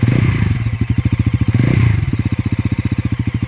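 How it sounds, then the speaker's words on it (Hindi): A Bajaj NS 400Z single-cylinder motorcycle engine revs up twice and then settles into a loud, even, rapidly pulsing idle, heard close and alone. "जब भी मैं थ्रॉटल को ट्विस्ट कर रहा हूँ, एक बेसी एग्जॉस्ट नोट और स्मूथ इंजन टोन के साथ एक सॉफ्ट विस्लिंग जैसा भी साउंड आ रहा है"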